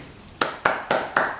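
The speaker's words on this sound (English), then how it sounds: "Claps all around." Four sharp hand claps in an even rhythm follow a faint earlier clap, crisp and close, with no voices.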